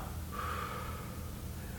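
Didgeridoo circular breathing, heard as a short, soft exhalation of air through the mouth, a brief breathy puff up close against a steady low background hum.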